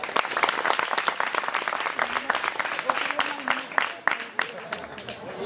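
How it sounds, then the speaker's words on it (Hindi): Applause for a participant named Kamini at a lecture during a Gandhi fair cultural program, a dense burst of many hands clapping throughout, moderately loud and steady with some voices mixed in. "कामिनी के लिए ताली हो जाए"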